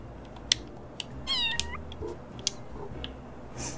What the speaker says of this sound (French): On a une touche pour miauler,